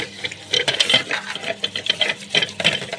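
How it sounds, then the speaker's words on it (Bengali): Splashing water and scrubbing as a pot crusted with boiled-over dal, soaked for a long time, is washed by hand, irregular wet sloshes and scrapes close by. "ধুয়ে নিয়ে একটু পরিষ্কার করে নিই।"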